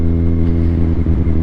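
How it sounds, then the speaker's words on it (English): Loud, steady engine drone from a Kawasaki Z1000R fitted with a Black Widow exhaust, heard up close while riding behind a horse box, with a deep throbbing rumble that holds throughout with slight dips. "Being stuck behind a horse box with an exhaust this loud is not really ideal"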